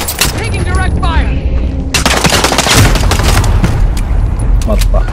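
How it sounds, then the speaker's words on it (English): Rapid gunfire crackles through a PlayStation 4 shooter video game, dense overlapping bursts and booms continuing steadily throughout, with players' voices talking over the shooting. "Taking direct fire."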